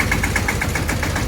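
A tractor engine runs close by at a steady idle, giving off a quick, even chugging pulse with a faint mechanical rattle.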